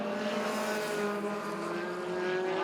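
USAC midget race cars at Ace Speedway roar steadily in a dense, high-pitched engine drone, several cars blending into one continuous sustained howl heard from trackside at moderate distance.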